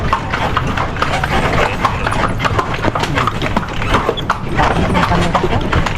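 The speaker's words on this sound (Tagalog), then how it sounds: "Yun, kabayo natin." Horse hooves clip-clop on a city street near Plaza Salcedo, a steady, close, loud run of hoofbeats that lasts throughout, with a faint neigh and some background street noise.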